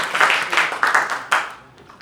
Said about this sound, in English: Give Nancy a round of applause for doing